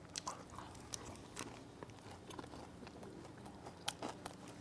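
Someone bites and chews crispy fried shrimp in a series of soft, uneven crunches and crackles, quiet and close, with no talking.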